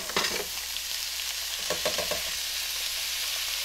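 Ackee and saltfish fry in a pan, a soft steady sizzle broken by a few stirring scrapes near the start and again in the middle.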